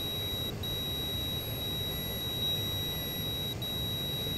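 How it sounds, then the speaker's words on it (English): Steady electronic warning tone repeating in the cockpit of an AJS-37 Viggen jet in the DCS flight simulator, a thin high beep pulsing a few times over a constant hum of engine and background noise, with no voices. "turn off the beeping"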